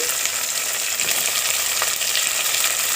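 Chopped tomatoes fry in oil for an Andhra-style bitter gourd curry, giving a dense, even sizzle up close with light crackles and stirring scrapes throughout.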